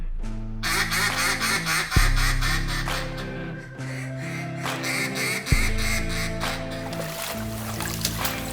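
Mallard ducks quack repeatedly in flooded woods, several loud, close, raspy calls in bursts with other ducks quacking behind them.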